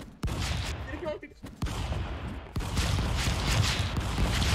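Shotgun blasts in the video game Stick Fight go off in quick bursts, a few sharp reports early and then denser rattling fire, mixed with players' chatter and laughter.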